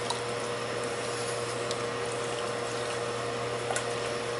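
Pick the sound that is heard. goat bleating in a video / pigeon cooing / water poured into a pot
water poured into a pot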